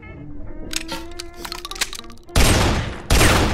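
A 12-gauge shotgun fires twice in Guns Gore and Cannoli, two loud, broad blasts in the second half, preceded by quieter musical and mechanical sounds.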